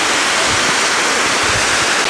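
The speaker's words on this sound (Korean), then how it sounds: "저쪽으로 폭포가 보이고" A waterfall in a Korean mountain gorge roars as a steady, dense wash of broadband water noise, loud and continuous with no voices.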